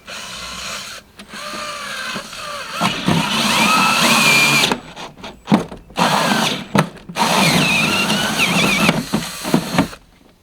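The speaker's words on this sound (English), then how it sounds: "4-inch hole saw gets you pretty close, but you're still going to have to trim it out some." A 4-inch hole saw on a power drill bores a hole, whining loud and close in long sustained runs broken by brief pauses and a few stops and restarts.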